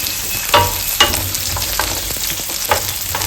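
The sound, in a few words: sautéing garlic and pepper in oil for fideuà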